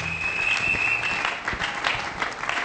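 Church congregation applauding, a steady burst of clapping from many hands in a reverberant hall, sustained and moderately loud with a faint tone at the start.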